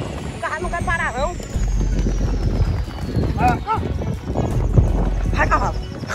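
Horses whinny and snort while horses and cattle cross a flooded creek in a busy, rumbling outdoor scene, with people shouting nearby and animal movement throughout.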